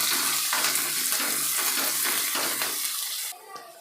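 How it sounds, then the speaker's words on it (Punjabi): Onions frying in a pan until light brown for a halwai-style cauliflower-stalk sabzi, a steady loud broadband sizzle with rhythmic stirring scrapes throughout, then dropping off sharply near the end. "ਇਹਨਾਂ ਨੂੰ ਭੁੰਨਦੇ ਆਪਾਂ ਜਦੋਂ ਤੱਕ ਪਿਆਜ਼ ਆਪਣੇ ਲਾਈਟ ਬ੍ਰਾਊਨ ਜੇ ਨਹੀਂ ਹੋ ਜਾਂਦੇ"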